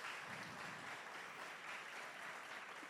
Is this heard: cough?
no